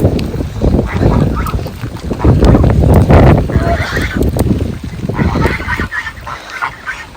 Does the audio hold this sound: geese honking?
yes